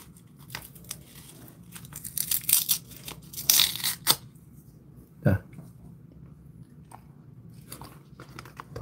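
A Jindo dog chews and tears at a snack, making crunchy bites and ripping bursts that cluster in the middle, with quieter gnawing and a few sharp crunches scattered around them, close up.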